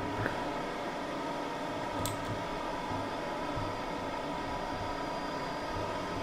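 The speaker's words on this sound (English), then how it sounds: "Mind the doors, this train's ready to depart." Class 390 electric train departing in the Train Simulator 2017 video game, a low steady rumble and hum of the moving train with a faint brief chime partway through, no talk.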